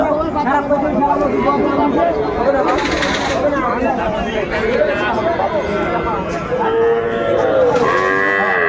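A five-month-old Sahiwal bull calf at a busy cattle market, with livestock calls rising out of constant crowd chatter and nearby voices talking throughout.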